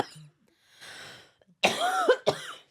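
A single throaty cough follows a soft breath, then a second short cough, close and fairly quiet.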